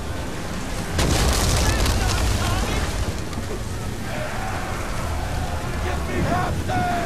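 Ship cannons boom in a naval battle in Assassin's Creed 3, heavy blasts layered over a constant roar of wind and waves, with a voice shouting over the din.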